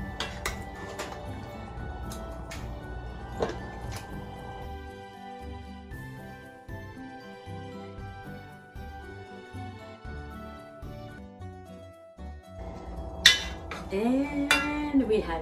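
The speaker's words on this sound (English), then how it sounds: "So we use this nice funnel that fits on the pot, and we're gonna add ratatouille here in the pot" Ratatouille is ladled through a funnel set on a pot into glass jars, with scattered clinks of metal and glass and soft scraping, fairly close, over quiet kitchen background, ending with a brief burst of louder clattering.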